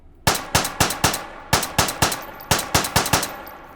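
Gunshots from a fused .32 ACP cursed gun in the VR shooter H3VR, twelve sharp loud cracks fired in quick uneven bursts of two to four, each with a short ringing tail and no talk.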